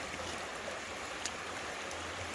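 A river rushes steadily below a walker's viewpoint near Dulverton in Somerset, a constant broadband wash of water with a faint low rumble, heard alone without talk.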